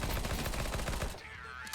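Rapid automatic AK rifle fire in Counter-Strike 2, a loud dense burst of shots lasting about a second before cutting off into a brief ringing tail.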